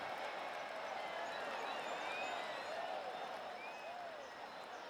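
Simulated golf gallery applause from PGA TOUR 2K21 washes steadily across the whole stretch, a soft continuous patter of distant clapping with faint whistles and cheers.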